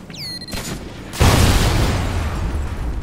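An IMS explosive device detonating in Call of Duty: a short chirp, then a loud close boom that cuts in suddenly and rolls into a sustained rumbling blast.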